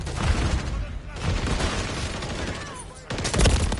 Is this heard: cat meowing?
no